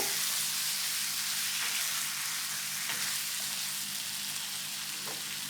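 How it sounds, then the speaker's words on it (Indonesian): Chicken pieces frying in fragrant satay spice paste for peanut-cashew chicken satay, a steady close sizzle running throughout with faint stirring, no voices. "kita masukkan ayamnya. Aduk rata bumbu-bumbu."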